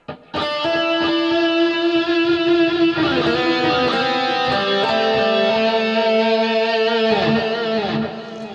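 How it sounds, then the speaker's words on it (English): Electric guitar played through a delay preset on a BOSS GT-100 amp effects processor, with sustained, overdriven chords and notes that ring on and repeat without break for about eight seconds, loud and close with no talking. "And then I've got a delay of that sound here on preset 4."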